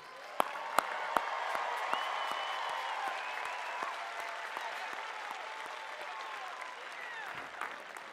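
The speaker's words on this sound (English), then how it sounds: "Please recognize the Bachelor of Science degree recipients with our hearty congratulations and applause." Applause from a commencement crowd greeting Bachelor of Science degree recipients at a 2023 undergraduate ceremony, moderately distant and steady, with a few sharp individual claps standing out early and a faint cheer or two.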